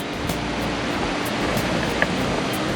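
A steady, dense roar of rushing water fills the air without pause, broad and constant like a waterfall heard from nearby, swollen by rain at Yung Thong Waterfall, Na Yung-Nam Som National Park, Udon Thani, Thailand.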